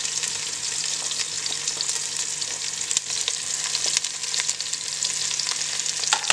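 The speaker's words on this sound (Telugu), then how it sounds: "వేసి బాగా గోల్డెన్ బ్రౌన్ వచ్చేంత వరకు ఆనియన్స్ వేసుకోవాలి" Onions and green chilies fry in oil until golden brown for a vegetable dum biryani, making a constant, even sizzle that is close and moderately loud, with faint stirring scrapes.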